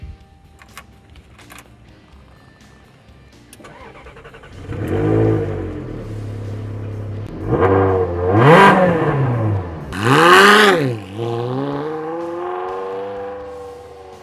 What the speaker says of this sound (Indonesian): agar kita bisa lebih menikmati suara mesin nyaris tanpa peredam